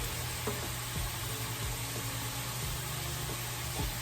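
Cabbage for a noodle stir fry sizzles in a hot pan, a constant hiss of frying with a few soft clinks and stirring knocks, close and steady.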